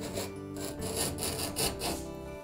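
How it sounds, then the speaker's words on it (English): Grout rake scraping old grout out of tiled shower walls, a close gritty rasp in several short back-and-forth strokes, steady and moderately loud with no talking. "our grout rake, that's designed to easily remove the grout"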